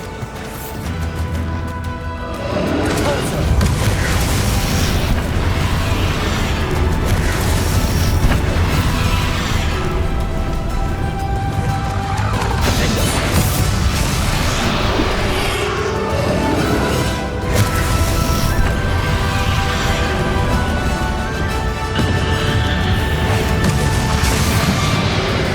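Bombarda explosion spells in a Hogwarts Legacy battle, a long stretch of loud booming blasts and crashes layered over continuous dense combat noise.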